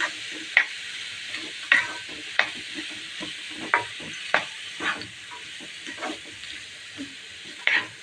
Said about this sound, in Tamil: வெங்காயம் சேர்த்துப்போம் சேர்த்துட்டு நல்லா கலரிடுங்க